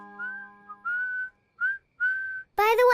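A cartoon character whistles a short melody of sustained notes with brief pauses, played clean and alone before another voice cuts in at the end.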